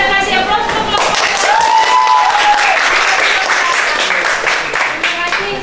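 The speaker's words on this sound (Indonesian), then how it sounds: "kita kasih aplaus untuk kelompok." A class applauding a student group after their physics presentation, steady dense clapping throughout with a voice briefly audible over it.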